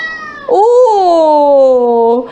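A single long, loud cat meow, drawn out with a sliding pitch, very close and clear against quiet.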